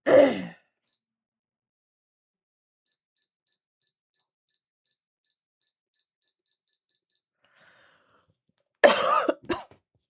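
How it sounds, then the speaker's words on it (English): A person coughs close to the microphone, one burst at the start and a harsher fit of coughs near the end, with faint regular machine beeps in the quiet between. "Sorry if I'm coughing in you guys' ear."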